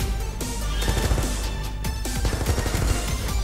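Rapid gunfire in the video game Contra 2028, loud and continuous over a busy game soundtrack, with repeated shot bursts and a few crashing impacts filling the whole stretch.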